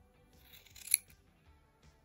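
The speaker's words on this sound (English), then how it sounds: "all we have to do now is we're going to cut all of these loops here" Scissors snip through the yarn loops of a big chunky crochet tassel, a faint single cut standing out around the middle against quiet room noise.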